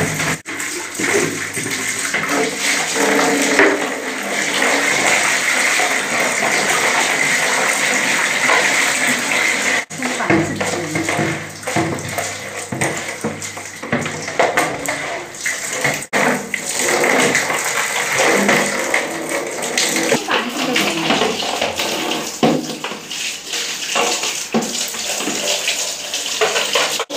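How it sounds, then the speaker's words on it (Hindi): Water pouring and splashing while a plastic bucket is rinsed clean, a loud, steady gush running almost unbroken for the whole stretch, close by. "अब हम पानी से धोएंगे।"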